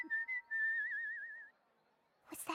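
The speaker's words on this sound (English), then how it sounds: "I love whistling while I work." A single person whistles a short warbling melody with a wavering held note, clear and close, followed by a brief rustle.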